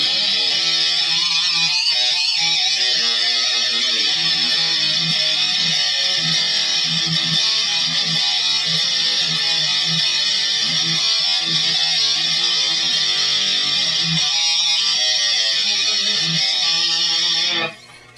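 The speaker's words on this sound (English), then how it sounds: "The heavy distortion." A thick, buzzing electric guitar through a Line 6 M9 heavy distortion setting plays continuously at high volume with a fizzy upper edge, then cuts off sharply at the end.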